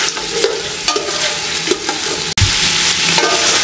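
Ingredients for a homemade creamy tomato soup sauté on a medium flame in a pan, a loud steady sizzle close by, with repeated spoon scrapes and one sharp knock partway through, and no talking.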